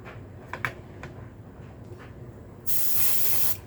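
An airbrush sprays paint onto a jointed two-piece fishing lure in a steady, close hiss lasting about a second, after a few faint taps and clicks.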